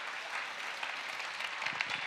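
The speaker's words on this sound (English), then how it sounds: "Please, a round of applause for Birgitta Kervinen" An audience at a talk on girls' sport and gender equality gives a short burst of distant, soft applause, a quiet continuous patter of many hands.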